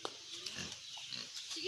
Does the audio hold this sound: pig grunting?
yes